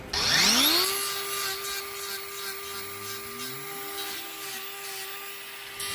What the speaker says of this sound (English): as I trim away with the grinder here